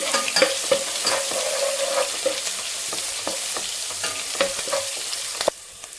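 Ginger garlic paste fries in oil for baby corn fried rice, giving a continuous sizzle broken by repeated scraping and stirring taps of a spoon, then quietening abruptly at the close.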